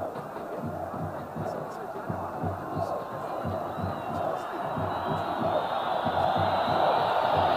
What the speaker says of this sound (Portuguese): Aí a torcida pede olé.